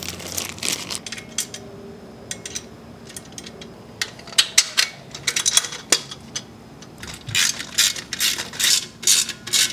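Bolts are tightened on a motorcycle swingarm stand with a ratcheting tool, producing bursts of rapid metallic clicks that grow denser and louder toward the end, close by with no talk.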